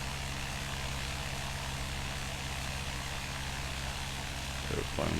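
A small airplane's propeller engine drones steadily and loudly in flight, a constant cabin-level roar with a brief bump near the end.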